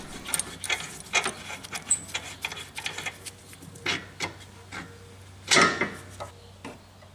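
Hand tools clicking and ratcheting as sway bar end links come off a Miata during a coilover swap, a close series of sharp mechanical clicks and turns with brief pauses between them.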